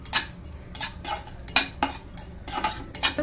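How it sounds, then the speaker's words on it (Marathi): Dry fruits and date powder stir-fried in ghee over low flame for laddoos, heard as repeated loud scraping and clattering strokes of a spoon against the pan in an uneven rhythm. "मग ते ड्रायफ्रूट्स जरा तुपावरती असे परतून मंद आचेवर जरा असे परतून घ्यायचे"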